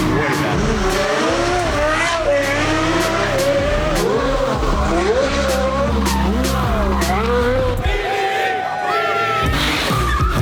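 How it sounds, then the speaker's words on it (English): A Porsche Carrera GT supercar fitted with an F1 exhaust roars continuously up close, its engine note rising and falling through gear changes with squealing tires, loud throughout, while a crowd and voices sit underneath. "F1 exhaust on the Carrera GT."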